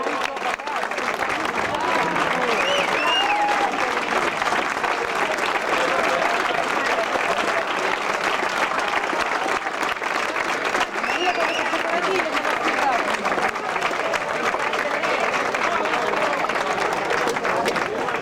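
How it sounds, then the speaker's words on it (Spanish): A crowd at a regional cadet cycling championship in A Coruña applauds the champion, with dense sustained clapping throughout, steady and loud, while a voice over a PA continues talking beneath it. "Un forte aplauso para o campeón."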